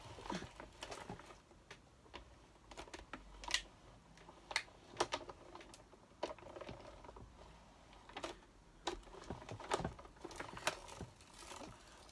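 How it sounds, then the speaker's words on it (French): A paper die-cutting machine runs as foil paper butterflies with decorative veins pass through it, giving a steady mechanical whir with irregular clicks and clacks, close and moderately quiet, with no voices. "Et je les passe sur ma machine de découpe."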